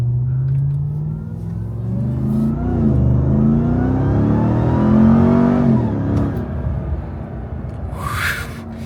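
A car engine revs hard through a moderate acceleration pull on a busy road, its rising and falling drone loud and close, with a brief shift-like dip partway and no talking.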